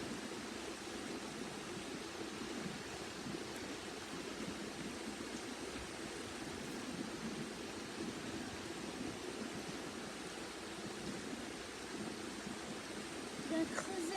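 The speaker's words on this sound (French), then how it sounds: "Les gouttes qui éclaboussent." Water drops splash steadily in a soft, even wash of noise like a stream, with no distinct individual hits. A faint, quiet ambience holds throughout, with a voice talking lightly in the background.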